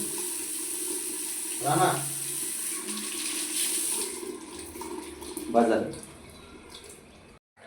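Water from a shower streams with a bright hiss while a pet named Rana is bathed, fading after a few seconds as people talk intermittently nearby.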